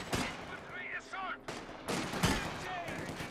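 Rapid bursts of machine gun fire from Company of Heroes 2, crackling in short volleys against battle noise and scattered distant explosions, fairly loud and continuous across the moment.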